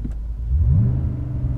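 A BMW M6 Gran Coupe engine revs at full throttle under launch control, a low rumbling growl swelling briefly in pitch, then settling into a steady, loud idle-like drone.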